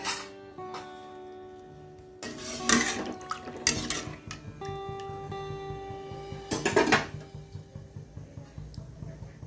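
Lentil fritter tenga being cooked in an Assamese kitchen, with a mixture poured into a cooking pot amid clattering pot and utensil knocks, a couple of louder splashy bursts, and a low steady hum beneath.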